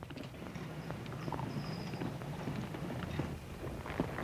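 Horse hooves clip-clop at a walk on open ground in a Western film scene, with irregular close hoof knocks over a low wind-like background and no speech.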